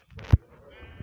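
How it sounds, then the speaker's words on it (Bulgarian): A sheep in the video game Minecraft gives a single short bleat, close and clear, followed by a faint game sound, with no talk over it. "Защото вижте как излизат зелени овци."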